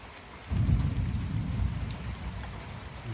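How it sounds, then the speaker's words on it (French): During a night thunderstorm, a deep roll of thunder breaks in suddenly and rumbles on under a steady hiss of rain. "De la foudre."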